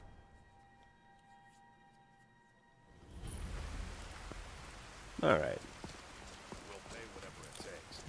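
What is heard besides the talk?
rain falling in the video game Skyrim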